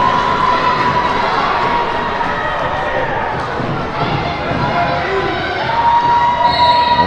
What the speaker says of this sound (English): Very loud crowd.